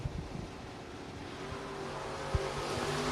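Drag race between a Chevrolet Colorado and a Camaro, with distant engine roar and broad track noise heard alone, plus a few faint thumps over a steady wash of sound.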